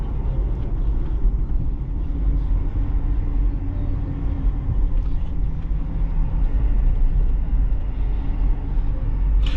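A 2022 Ford F-250 STX FX4 pickup with a 6.7L V8 diesel, heard from inside while driving: a loud, steady low rumble of engine and road noise that continues without a break.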